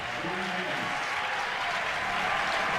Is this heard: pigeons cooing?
no